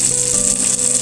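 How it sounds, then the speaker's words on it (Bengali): Fish fries in a pan for a Bengali vorta, giving a steady, dense hiss of sizzling oil throughout, close and fairly loud with no pauses. "মাছ ভাজা হয়ে গেছে"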